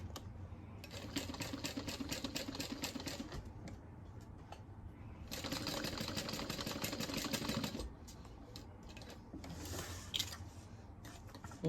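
A sewing machine back stitches along the curve of a crescent-shaped handbag, running in bursts of rapid mechanical stitching separated by short pauses, close and fairly quiet with faint creaks and clicks.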